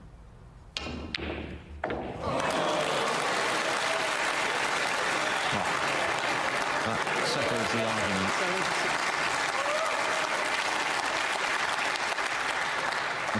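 Snooker crowd at the 2023 English Open, during Ronnie O'Sullivan versus Si Jiahui, breaks into loud, sustained applause after a couple of thuds, with a commentator talking over it.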